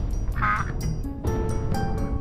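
A duck quacking over a dense, steady natural background, with repeated nasal calls rising above the constant din.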